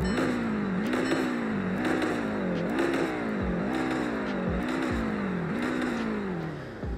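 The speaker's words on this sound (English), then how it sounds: "Here are the revs." A Volkswagen Golf R engine is blipped repeatedly nearby, each rev rising and falling in a regular rhythm of about six sharp bursts over a steady idle, with no voices.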